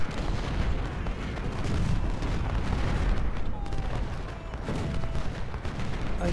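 Civil War artillery in Ultimate General booms across a battlefield, a dense, continuous rumble of distant cannon fire and bursts that rolls on without pause, loud and layered with no clear single shot standing out.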